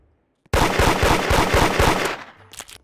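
Rapid automatic gunfire from the Roblox game Da Hood, a loud, close burst of evenly spaced shots lasting about a second and a half before trailing off into a few scattered faint clicks.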